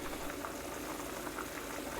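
Water for tonjiru miso soup comes to a boil in a pot, giving a steady, dense bubbling roar that holds at an even level throughout with no voices.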